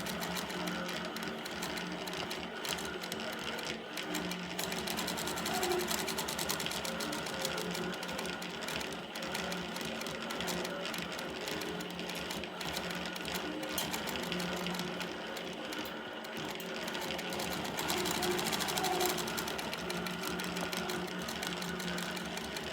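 Sewing machine quilting fill stitching on an applique piece, a dense, steady, rapid mechanical whir and chatter that runs continuously at close range with no talking.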